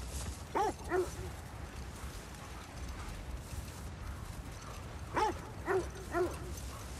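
Wolves in the God of War Ragnarok game give a few short barks or yips, one near 0.6–1 s and another group around 5–6 s, over a steady ambient game background.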